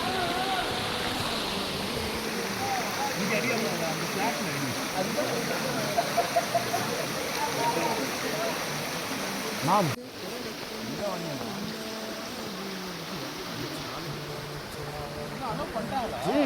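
Steady broadband rush of water flowing at Tada Falls waterfall, a constant close roar filling the scene with no breaks, with a brief bump partway through.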